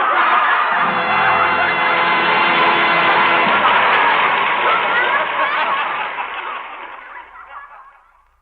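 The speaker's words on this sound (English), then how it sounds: "Did you ever hear anything like that applause, kid?" A studio audience at a 1940 Lux Radio Theater broadcast gives a full, loud round of applause that holds steady and then gradually fades away.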